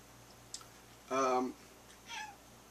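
A house cat meows once, close and clear, during a quiet indoor whisky tasting, with a faint click just before and a softer second call trailing after.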